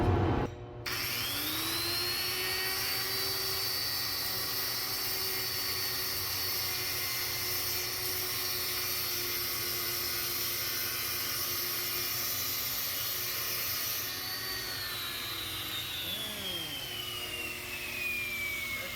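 A Millers Falls 747 router cutting a groove in a wooden tool chest top: a sudden start, then a sustained, loud, high motor whine with a steady cutting hiss that sags slightly in pitch near the end.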